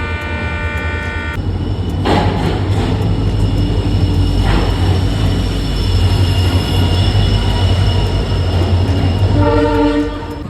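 A double decker train rolls into Jaipur Junction, loud and steady, with a horn blast at the start and again near the end, rumbling wheels and brief squeals between.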